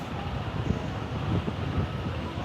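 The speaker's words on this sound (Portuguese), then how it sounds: "Tá uma ventania." Strong typhoon wind roars across a train station in a continuous, buffeting rush of noise with low gusty thumps.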